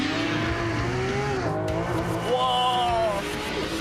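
A race car launches hard off the line at a drag-style start, its engine rising in pitch, then dropping with a gear change and climbing again, loud and close throughout, with tire noise underneath and a voice briefly heard.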